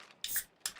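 Metallic clicks and rattles of a weapon magazine being swapped in a Rocket League-themed game session, two short bright bursts about half a second apart, fairly quiet with no talk.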